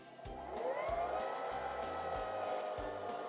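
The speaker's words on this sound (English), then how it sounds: "And now we can finish winding the bobbin." A Singer Fashion Mate 3337 sewing machine winds a bobbin with a steady, close motor whir that rises in pitch as it spins up and then holds an even hum for a few seconds.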